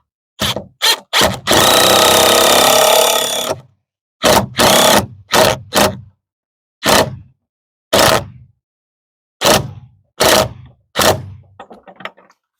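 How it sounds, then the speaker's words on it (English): A power drill drives a screw while installing a fence gate latch, heard as a long whirring run followed by a series of short, loud bursts separated by silence. "I just need one screw in here, get it going, and we can level it off."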